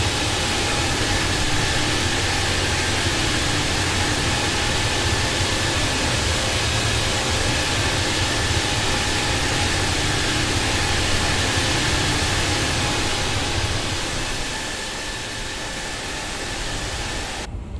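Airbus A350-1000 jet engines in Microsoft Flight Simulator 2020, on a British Airways flight from Heathrow to Tenerife, give a steady, loud, broadband roar that holds constant and eases slightly near the end.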